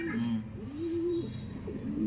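Soft, low cooing of pigeons close by, a rolling repeated coo over quiet background.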